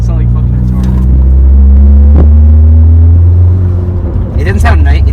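A 2018 Honda Civic Si fitted with a GReddy Supreme SP exhaust idles with a loud, deep, steady rumble up close, the low drone holding level with slight changes, and a brief voice near the end.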